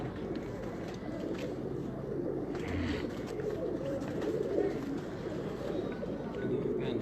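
Pigeons coo on a rooftop, soft repeated low calls close by over a steady background hum, with faint voices in the distance.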